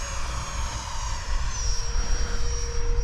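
A Freewing F/A-18 Hornet RC jet with a 90mm electric ducted fan flies past, its steady, loud whine and rushing roar holding throughout with a slowly shifting pitch and no talk.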